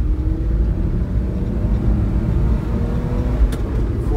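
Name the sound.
Daihatsu Hijet engine driving in third gear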